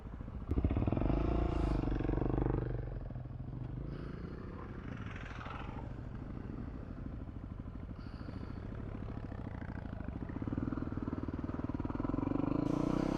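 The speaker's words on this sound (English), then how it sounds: "we've got Brad coming up behind me on the KLR" A group of motorcycles, among them a Kawasaki KLR dual-sport, ride along a road on a three-day Smoky Mountains trip, a steady engine drone and road rumble running throughout, rising slightly near the end, with no talk.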